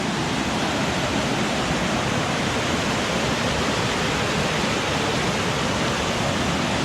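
A small creek in Olympic National Forest rushes steadily, a dense, even wash of flowing water heard close by with no voices and no break in the flow.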